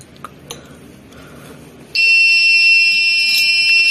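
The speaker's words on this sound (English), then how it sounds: "So it makes an alarm that allows the security if an unauthorized person goes inside the school." Alarm from a smart RFID attendance system triggered by an unauthorized tag at a school entrance: a loud, steady high-pitched electronic beep starts abruptly after quiet room noise and holds continuously to the end.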